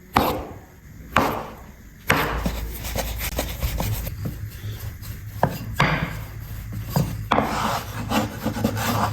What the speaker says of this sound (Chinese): 把黄色的面团先搓成条，切成大小均匀的小面剂